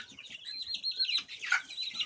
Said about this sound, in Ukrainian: Такі курчатка.